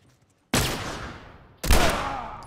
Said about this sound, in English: He gonna shoot me and run.